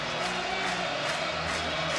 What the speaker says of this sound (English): another jam-packed crowd here at Memorial Stadium